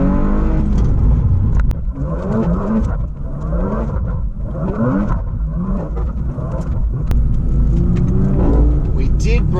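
A race car descending Mt Panorama at a hillclimb on a warm-up run, its engine loud and close with revving and gear changes throughout, and occasional faint voices in the background.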